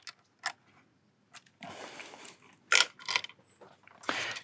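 A quarter-drive ratchet snugs the ignition coil bolts on a 2012 Mercedes-Benz C250/SLK250 engine, giving faint scattered clicks and short ratcheting bursts with quiet gaps between them, louder toward the end.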